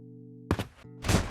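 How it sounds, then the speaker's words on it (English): Punch and impact sound effects in a Daredevil video game: two dull, thudding hits about half a second apart over a low steady hum, fairly quiet and alone. "Then I added some punch and impact sound to make it feel more satisfying."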